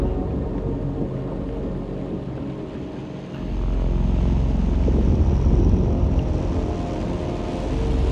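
A low, throbbing helicopter rotor rumble in the video game Little Nightmares 2 drones steadily, growing louder partway through and continuing as a dense mechanical hum with no voices.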